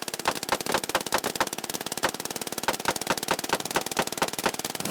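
A mounted M249 belt-fed machine gun fires one long, fast, evenly spaced burst, loud and close, running without pause and with no voices.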